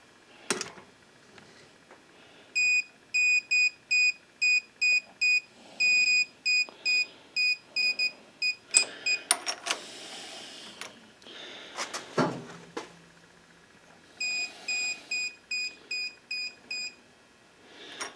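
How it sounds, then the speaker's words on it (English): A Carlisle torque wrench set to 200 inch-pounds gives a run of short, regular electronic beeps as bolts are tightened in a cross pattern. Clicks and clunks from the work fall between the beeps, then a second burst of beeps follows. "Carlisle torque wrench out here, and I got it set to 200 inch-pounds."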